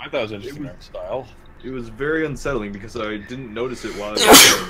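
A single sharp sneeze bursts out loud and close at the end, right after a stretch of casual conversational speech.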